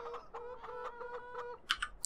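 Video game chickens cluck in a quick series of short, repeated calls, fairly quiet and alone, followed by a couple of brief clicking sounds near the end.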